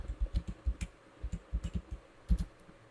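Soft keystroke clicks on an HP Spectre 13 x360 laptop keyboard, a quick irregular run of taps in short bursts with brief pauses, close and fairly quiet.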